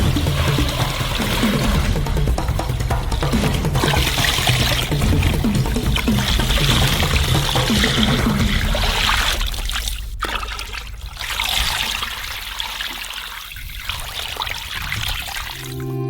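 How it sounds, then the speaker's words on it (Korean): Water pours steadily into a cauldron holding sturgeon bones and a fish head for soup, a loud, continuous gushing splash that runs for the whole stretch and eases slightly toward the end. "물을 부어주세요."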